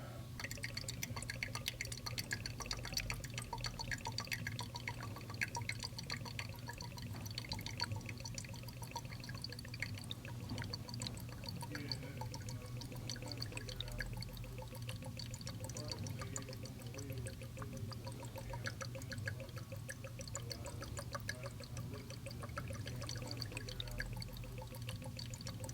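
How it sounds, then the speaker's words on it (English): Antifreeze pours steadily into a car coolant reservoir while fitting a Demon/Redeye front strut tower brace, a faint continuous trickle and splash over low garage hum. "we're going to use the existing antifreeze in the reservoir to top off the new reservoir"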